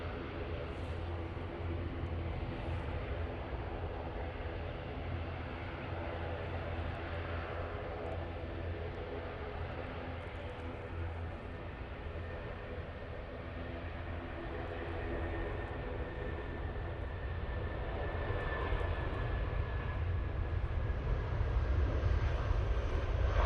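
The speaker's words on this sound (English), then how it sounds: "We've got the Eurowings just spooling up now, so let's get that one" Eurowings jet, a small Airbus bound for Dusseldorf, spooling up its engines at Manchester Airport: a steady distant engine roar with a faint rising whine, building slightly louder toward the end.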